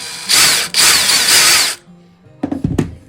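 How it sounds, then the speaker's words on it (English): A power drill whirs loudly in two bursts with a brief pause between while drilling a small hole straight down, then stops; a few soft knocks and handling sounds follow. "So let's just drill a little hole right here, straight down."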